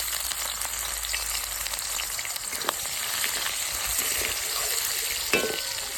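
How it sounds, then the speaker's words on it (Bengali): Onions dropped into hot oil for a boal fish curry sauce, crackling in a dense, even sizzle that swells a little midway, with a couple of sharp clinks from stirring. "তেল গরম হয়ে গেছে, আমি পেঁয়াজ গুলো দিয়ে দিই।"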